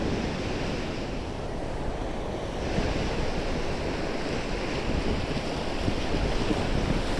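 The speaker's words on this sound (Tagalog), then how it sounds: "alon ba yan?" Ocean surf rolls and crashes steadily at a tidal pool, a dense continuous roar of water with wind buffeting the microphone throughout and no voices.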